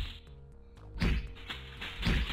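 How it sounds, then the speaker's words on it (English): Two interstellar ruffians thump the player unconscious in the Space Quest 2 video game: a couple of close, dull thuds with brief whooshing swings, with no talk over them. "two interstellar ruffians proceed to thump you unconscious"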